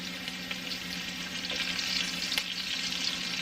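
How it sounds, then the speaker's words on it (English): Potatoes fry in a pan with seasoning, giving a steady close sizzle and crackle with occasional stirring sounds and no voices. "fry on that one side, crisp up, and soak up some of that yumminess."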